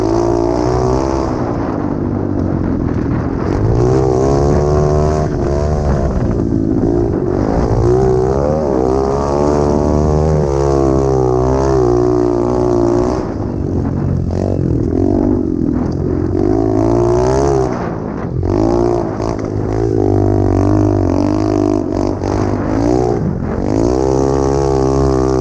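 A 2020 SSR 125 pit bike on a time trial lap, its small engine loud and close, rising and falling through gears in continuous revving surges with brief throttle lifts.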